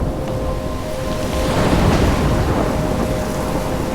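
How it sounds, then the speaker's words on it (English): A thunderstorm in the video game Life is Strange, a loud, continuous roar of wind and rain with deep rumbling that swells toward the middle, alone with no voices. "I'm trapped in a storm?"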